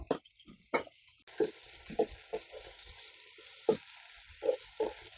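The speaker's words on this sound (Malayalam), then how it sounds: "ഇഞ്ചി, വേപ്പില, ചെറിയ ഉള്ളി ഇവ നമുക്ക് ചേർത്ത് കൊടുക്കാം. നമുക്കൊന്ന് വഴറ്റിയെടുക്കാം." Ginger, curry leaves and shallots fry in a pan with a soft sizzle, broken by a series of sharp spoon knocks and stirring scrapes at irregular intervals, close but quiet.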